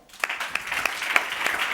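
Brief applause from a conference audience for a speaker, a short burst of scattered clapping with a few sharper individual claps standing out, moderately loud and building over under two seconds.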